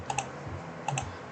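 Two pairs of sharp computer keyboard key presses, escape then delete, clicking near and clear early on and again near the end, with a few lighter taps and low room hum between.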